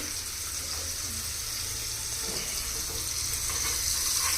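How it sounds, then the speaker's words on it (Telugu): Pieces for a fish-style curry frying in hot oil in a pan and being turned over, a continuous close sizzle and bubbling hiss that holds steady and grows slightly louder toward the end. "జస్ట్ 2 minutes అటు ఇటు వేపుకుంటే సరిపోయిద్ది"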